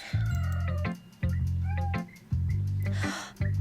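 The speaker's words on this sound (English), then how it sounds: "my cat's in heat. That's why she's meowing so much." A female cat in heat meows loudly and insistently, four long drawn-out yowling calls in a slow repeating rhythm, close by with no talking over them.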